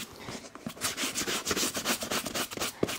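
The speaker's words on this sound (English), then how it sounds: "all I'm doing here is to brush off what I can see of the dirt" Nubuck leather Timberland boots brushed to remove garden dirt, quick close scrubbing strokes in a rapid, fairly even rhythm, each a short rough brushing rasp.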